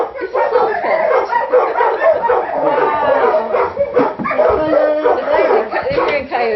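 Dogs howl and yip together as they join in with coyotes, a dense, wavering chorus that carries unbroken through the whole stretch with no pauses.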